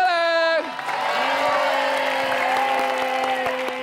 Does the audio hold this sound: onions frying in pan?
no